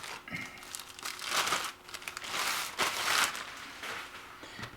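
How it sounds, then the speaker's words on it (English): A NuTone Model 2561 music intercom is pulled from its plastic bag, giving close, loud, continuous crinkling and rustling of plastic in several bursts over a few seconds. "We'll take it out of its plastic bag."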